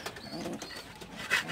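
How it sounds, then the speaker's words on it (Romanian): Pigeons shut inside an aviary give soft, low cooing calls and murmurs close by, with a faint higher chirp near the end and no speech. "Deci am închis porumbeii."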